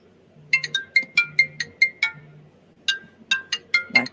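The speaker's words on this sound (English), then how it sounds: "My phone was ringing." A phone ringtone plays a bright melodic pattern of repeated chiming notes, two phrases separated by a short pause, fairly loud and close, with no voices over it.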